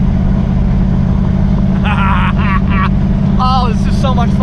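Squarebody Chevrolet Suburban engine droning steadily and loud throughout while driving, a dense low rumble with other brief sounds rising over it toward the end.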